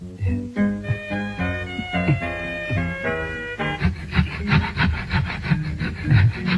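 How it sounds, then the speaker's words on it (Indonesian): A hand saw cuts through wood in a rhythmic run of rasping back-and-forth strokes in the second half, after a stretch of tonal music. "Ini gergaji."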